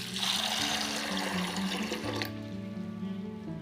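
Water runs steadily from a tap or jug into a vessel holding sago for soaking, a continuous splashing pour that stops abruptly partway through, leaving a faint residual trickle.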